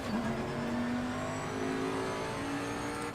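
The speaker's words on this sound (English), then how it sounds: "Every so often it just sounds like the car's blowing raspberries at you." Race car engine in Assetto Corsa Competizione at Donington Park, a steady, loud drone of revs rising and falling with raspy, popping notes, running continuously up close with no talk.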